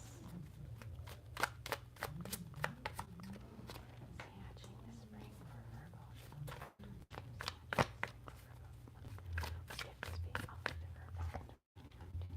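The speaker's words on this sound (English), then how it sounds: "All right, so pulling those cards." Tarot cards being shuffled and pulled, giving repeated crisp riffles and flicks close by while a voice whispers and murmurs under them.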